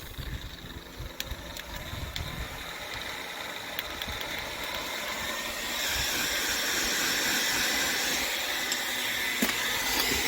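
A heat gun blows on the badge of an Alfa Romeo Giulietta, a steady airy whooshing hiss with a motor drone that swells louder partway through and holds, with faint clicks on top.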